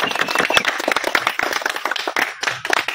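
Lively clapping from a crowd at a village wrestling akhada prize ceremony, greeting the village headman; dense, uneven hand claps go on steadily throughout, close and loud.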